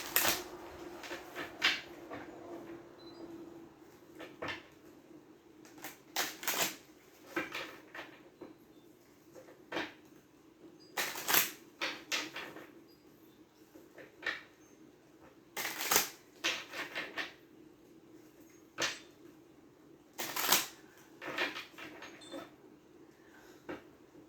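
Tarot cards are shuffled in repeated riffling bursts, crisp and close, separated by quiet pauses over a faint room hum.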